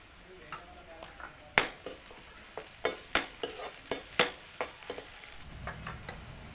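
Onion frying in hot oil, a low steady sizzle broken by a quick series of sharp scraping and knocking strokes as the pan is stirred, close up and fairly regular, then settling back to a quieter hiss.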